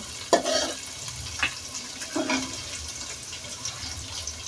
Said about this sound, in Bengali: এখন পেঁয়াজ নাড়া হচ্ছে, পেঁয়াজগুলো একটু ভাজা হলে তারপরে কাঁচামরিচটা দিব।